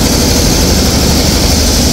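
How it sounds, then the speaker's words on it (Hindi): Tractor washing the roads of Ayodhya, a loud, steady engine drone with a constant low rumble and hiss, close and unbroken, with no talk. "ये आप देख सकते हैं यहाँ के आज ट्रैक्टर के माध्यम से"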